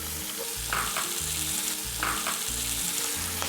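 Chopped celery, onion and carrots sizzle steadily in a hot pan beside a seared beef roast, with a continuous loud frying hiss and a few stirring scrapes, no talking.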